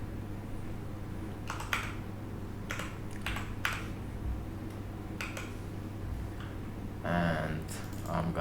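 Code is typed on a computer keyboard in short clusters of clicks spread over several seconds, set against a steady low hum.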